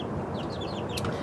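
A flock of chickens clucks, giving a few faint, short calls above a steady wash of broadband background noise.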